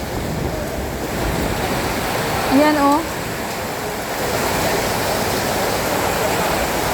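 Strong typhoon wind swirls and roars with heavy rain in Kota Kinabalu, Sabah, a constant wash of noise, while a person briefly calls out over it.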